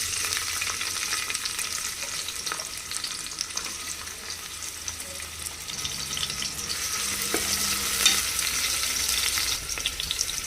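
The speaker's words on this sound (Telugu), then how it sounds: "ఇప్పుడు నేను ఉల్లిపాయలు వేసేసుకుంటున్నాను" Onions fry in hot oil in a cooker, making a loud, steady crackling sizzle that continues throughout with faint stirring scrapes, close up and without talk, for a cabbage masala fry.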